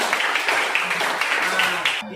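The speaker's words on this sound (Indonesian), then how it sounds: "Tepuk tangan dulu ke Yohana." Classroom applause from a group of students, a steady clatter of many hands clapping close by for about two seconds before stopping abruptly.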